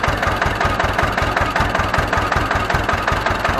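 Ursus C 325 tractor engine running in field gear, a steady low chugging with a fast, even knocking rhythm, loud and close, with no talk.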